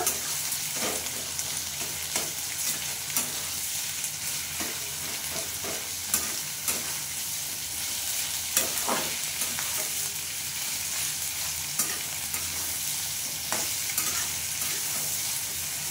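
Slit green chillies sizzle and spit in hot oil in a pan while fish is being cooked, a steady close frying hiss with frequent sharp crackles and pops and occasional stirring, no voices.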